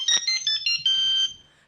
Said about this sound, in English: play Tony Soprano's ringtone.